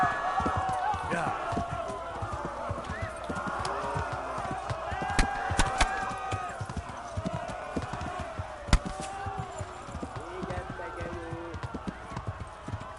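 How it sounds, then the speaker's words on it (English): A horse gallops in the Kingdom Come video game, its hooves drumming in a fast, steady clip-clop rhythm close by, with occasional sharp thuds, while someone talks over it throughout. "Corre, cavalo."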